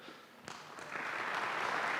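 Applause at an academic lecture session welcoming a professor, starting faint with a few claps and swelling into steady clapping from a distant audience.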